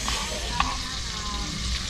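Onions frying in a pan, a steady close sizzle with a brief stirring clink.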